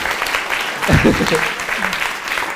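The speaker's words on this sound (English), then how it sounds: "I think Richard deserves a big round of Really applause" An audience at a Learning Disability Wales annual conference in North Wales applauds, a steady wash of clapping throughout while a voice speaks over it.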